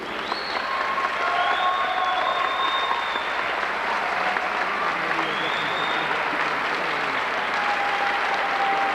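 High school sports crowd in a gym applauding during an award presentation, a sustained, even wash of clapping throughout, with faint whistle-like tones above and voices mixed in.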